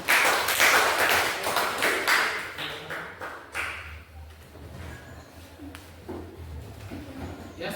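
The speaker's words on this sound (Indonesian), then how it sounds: "berikan tepuk tangan" Applause in a classroom during a teaching practice session, loud irregular clapping at the start that thins out and fades into scattered claps and a few taps.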